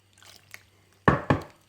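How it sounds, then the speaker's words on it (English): Water poured into rice flour batter for teler pitha, a fried sweet, heard as two brief, close splashy pours in quick succession with a faint background before them and no talk. "I'm going to add some more water."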